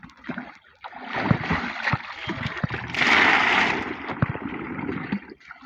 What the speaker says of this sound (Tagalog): lalagyan na natin yan ng yelo at tubig